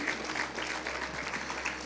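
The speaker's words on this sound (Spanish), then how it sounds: "Denle un aplauso al Señor." Church congregation clapping for the Lord during a Spanish-language cell-leadership sermon, a steady diffuse patter of many hands filling the room at moderate level, with no voice standing out over it.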